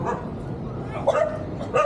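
Dogs at the Animal Wellness Trust shelter in Wadduwa, Sri Lanka let out a couple of short, close yipping barks against a busy indoor background, with one burst near the middle and another at the end.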